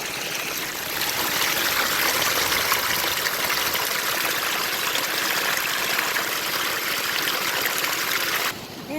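Water pours steadily off the back end of a gold sluice, a constant rushing trickle close by that carries on without pause and then drops off abruptly at the very end, with no talk.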